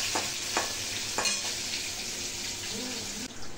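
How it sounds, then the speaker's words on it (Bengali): Fish frying in oil, a loud steady hiss of sizzling with a few metallic utensil taps against the pan, heard up close without speech. "ভালো করে ভেজে নিই"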